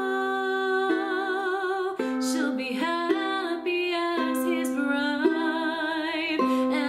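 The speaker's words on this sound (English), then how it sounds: "you're going to be plucking alternating strings" Four strings are plucked in an alternating pattern to accompany a sung melody; the steady plucked notes run under the voice throughout.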